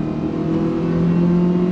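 A Mitsubishi New Xpander 2022 with a CVT transmission accelerates hard, its engine holding a steady droning hum that rises smoothly in pitch without gear-change breaks, loud and close from inside the car.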